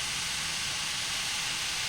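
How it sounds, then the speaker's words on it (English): Water and steam hiss steadily from the S06 steam locomotive in the Derail Valley video game, a continuous, even rush of broadband noise with no voices. "we can see that it's allowing water to escape"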